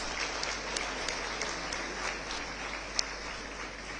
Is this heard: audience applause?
yes